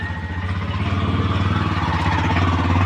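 An old nasimon, a locally built motor vehicle with a heavy steel body and gearbox, runs with its engine chugging and clattering steadily and loudly up close throughout, in a continuous low throb.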